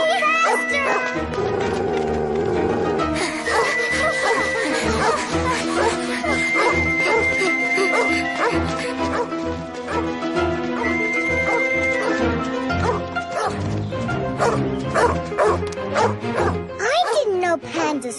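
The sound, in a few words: wild dog barking in a cartoon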